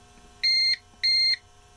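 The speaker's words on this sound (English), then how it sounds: "You have the alarm going off," A battery backup unit for a Rinnai RU199iN tankless water heater sounds its alarm: two clear, evenly spaced electronic beeps, each about a third of a second long, loud and close over a quiet background hum.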